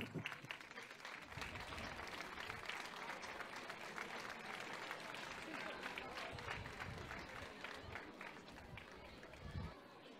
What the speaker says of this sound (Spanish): un fuerte aplauso para Adriana, Arturo, Sofía y Noel